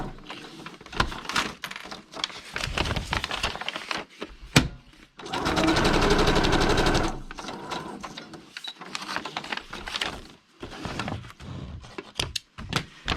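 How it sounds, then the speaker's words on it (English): A sewing machine stitches through a paper journal page in one continuous whirring run of about two seconds, surrounded by shorter clicks, page handling and small knocks. "I am on purpose trying to not sew over the same lines."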